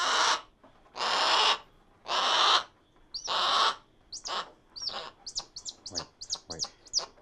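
A falconry bird held on a gloved fist calls with four long, harsh screeches, then a quicker run of short sharp chirps, loud and close.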